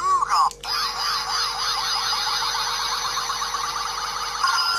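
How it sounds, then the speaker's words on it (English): A Kamen Rider W DX Sound Capsule Gaia Memory toy plays a loud electronic effect: a brief burst, then a fast warbling siren-like tone cycling rapidly over a steady high whine. "First you have the sound of Mighty form, then it's Dragon form, then it's Titan form, then it's Pegasus form."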